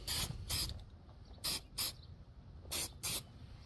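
A spray paint can fires six short hissing bursts in three pairs, each a sharp, close, bright blast of about a quarter second with quiet gaps between.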